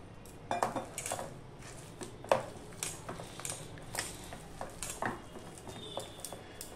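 Dough of rice flour, gram flour and curry leaves being mixed in a bowl, with soft irregular clinks of utensil against dish and quiet squelching stirs, close and low in level.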